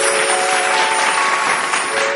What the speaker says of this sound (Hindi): जोरदार करताली सहित स्वागत करिबे